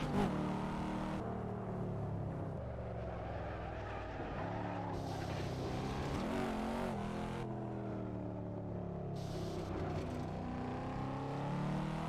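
Ford GT race car engine in a racing sim game, a steady loud drone with rising and falling pitch through gear changes, running alone without voices.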